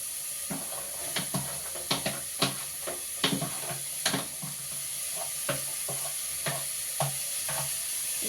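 Toor dal with potato, carrot and beans frying in a pan, a steady sizzle broken by repeated sharp scraping stirs at an uneven rhythm, close and moderately loud with no talk.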